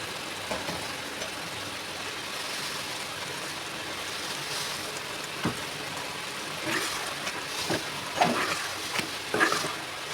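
A Katla fish head curry with bottle gourd, salt, radhuni paste and a little cumin paste is stirred in a pan, with a steady soft sizzle and a few scraping strokes of the spoon growing a little louder toward the end.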